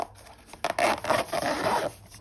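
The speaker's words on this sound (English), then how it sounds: "They obviously come in their own carry case that you can zip up." A zipper on a tool carry case is drawn along in a few rough, rasping pulls, close and fairly loud, with no talking.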